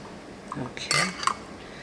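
Metal canning lids clink softly onto glass jars of water-bath canned faux pineapple zucchini, a few light metallic taps and a brighter chink close by in a quiet room.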